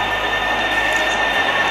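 An LRT light rail train running in Bus Simulator Indonesia, a steady loud rolling hum with a high whine, continuous throughout.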